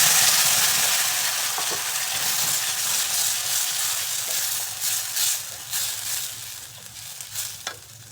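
Garlic and momo chutney ingredients sizzle in a hot pan, a bright continuous hiss with occasional stirring clinks and scrapes that fades somewhat toward the end.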